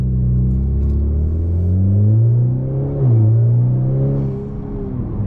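Revving engine of a 2021 Honda Accord Sport 2.0T with a stage 3 tune, a steady low rumble that swells and dips in pitch as the revs rise and fall, heard close and continuous without speech.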